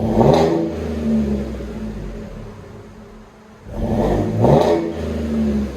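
A truck engine revs in deep, throaty bursts through a loud Flowmaster Super 10 muffler exhaust, dipping to a low idle rumble between throttle blips.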